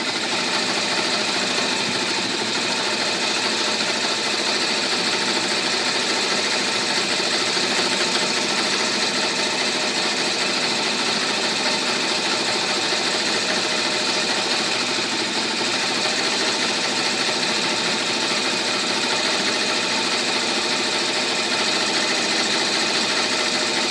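An embroidery sewing machine stitches out a 3D troll girl peeker appliqué design, giving a steady, continuous whirring hum with a fast mechanical chatter that runs unbroken and fairly loud throughout.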